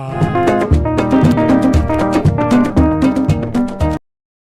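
A Ghanaian cultural group's song from a 1978 album plays as radio background music. Dense rhythmic percussion and layered melodic voices and instruments run steadily and loudly for four seconds before cutting off abruptly.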